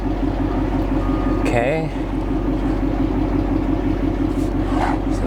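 A saltwater-flooded car's engine runs steadily just after starting, a close, even idle hum and rumble throughout, with a person briefly speaking over it.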